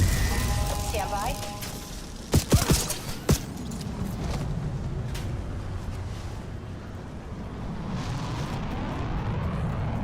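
Incoming-fire explosions in a video game burst out in a tight cluster around the middle, two or three sharp heavy blasts over a steady rumbling game soundscape, with voices talking over it.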